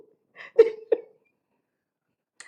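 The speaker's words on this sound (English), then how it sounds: "I burped." A person lets out a short, low burp in two quick pulses against near silence, followed by a faint brief sound a moment later.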